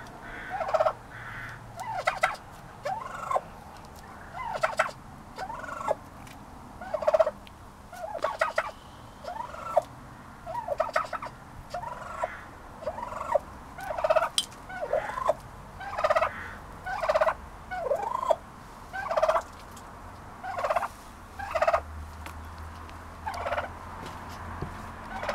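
Rescued turkeys, including a new male, gobble again and again at feeding time. Bursts of gobbling repeat every second or so at close to middle distance, with no one talking.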